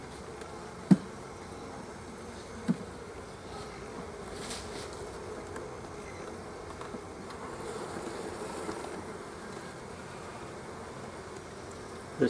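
Honey bees in an open beehive give off a soft, continuous buzzing hum throughout, with a few faint knocks and bumps on top.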